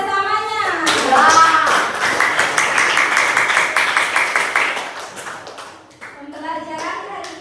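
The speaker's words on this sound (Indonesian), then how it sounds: "Tepuk tangan buat kelompok 1 dan kelompok 2, kelompok 3 atas kerjasamanya" Classmates in a classroom applaud the student groups. A burst of many hands clapping swells quickly, holds for a few seconds and then fades. A teacher's voice and children's chatter can be heard before and after it.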